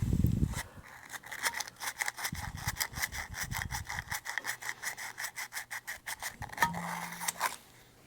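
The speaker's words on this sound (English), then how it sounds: "you want to take this and you want to rub that to make it really black again" Ignition terminals on a 1943 Case SC tractor are scrubbed clean by hand, giving a long run of quick, rhythmic rasping strokes, close and fairly quiet, with brief pauses between bursts.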